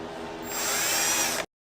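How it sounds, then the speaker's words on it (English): A power drill boring a pilot hole while fenders are mounted on a Mercedes 190E Evo 2 body kit, a close whine that rises in pitch as it bites, then cuts off after about a second and a half. "Should probably do a pilot hole first."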